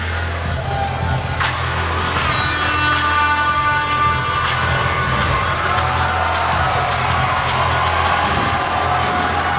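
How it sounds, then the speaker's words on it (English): A packed boxing crowd roars and cheers for fighter Ollie Edwards, a dense, loud wall of shouts and whoops that swells and holds for several seconds with no clear talk over it. "The crowd absolutely going crazy this evening here for Ollie Edwards."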